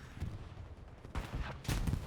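Tank cannon fire in a competitive World War II video game match on the Hurtgen map, two heavy booming blasts about half a second apart amid continuous battlefield noise.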